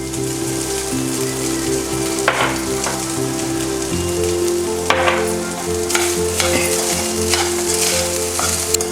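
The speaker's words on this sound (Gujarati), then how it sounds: "આ ફ્રાઈડ રાઈસ એકદમ બરાબર મિક્સ થઈ જાય" Fried rice seasoned with salt, oregano and chili flakes being stirred in a hot pan, a loud constant sizzle with scattered scraping strokes of the spatula, heard up close with no talking.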